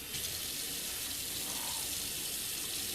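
Steady broadband rush of tap water running into a sink, continuous and fairly close for a few seconds with no voices over it.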